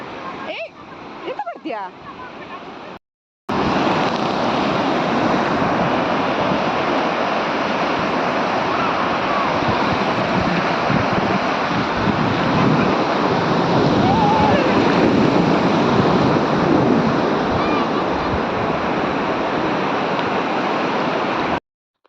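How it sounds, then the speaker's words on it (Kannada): Ocean waves at a beach roar loudly and continuously, with heavy surf wash and wind buffeting the microphone after a short, quieter opening. "ಬೀಚಿಗೆ ಬಂದಾಗ ಆ ನೀರಿನ ಸೌಂಡ್ ಕೇಳೋದೇ ಒಂಥರ ಏನು ಹೇಳ್ತಾರೆ ಅದಕ್ಕೆ ರಶ್ಶಿ ಮನಸ್ಸಿಗೆ ಹಿತ ಅನ್ಸ್ತದೆ"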